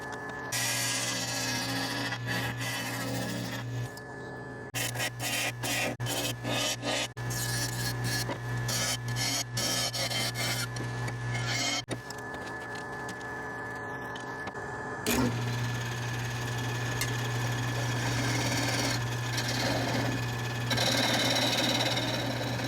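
An African sumac log with crotch feather figure spins on a wood lathe while a tenon is turned, a steady motor drone with a continuous rasping scrape of the tool cutting the wood, close up.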